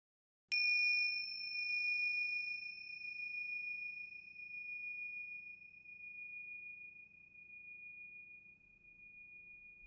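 A single clear bell chime marks a podcast segment break, struck once and then ringing out as a long, pure, slowly fading tone in otherwise near silence.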